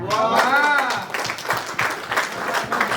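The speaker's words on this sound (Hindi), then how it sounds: "थोड़ा सा तालियों का आयतन और उत्साह बना के रखना।" Audience at a Hindi kavi sammelan poetry recital at a nursing college breaks into bursts of applause, clapping rising and falling in uneven waves after a spoken line, with a voice heard briefly at the start.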